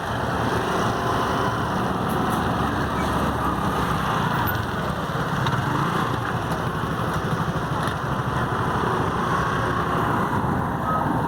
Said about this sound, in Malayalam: ഇത്ര വണ്ടികൾ കയറുകയാണ് വണ്ടികളൊക്കെ കയറുകയാണ്